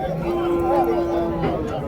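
Native cattle at the Vaniyambadi cattle market, a steady tonal lowing drone over dense crowd and market chatter, with a speaking voice mixed in nearby.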